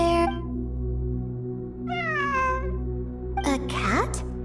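Cat meowing in the video game Genshin Impact, two or three distinct rising-and-falling meows over a steady ambient music drone, with a brief harsh caterwaul near the end.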